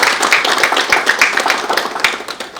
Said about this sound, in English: can we applaud for you guys for being here?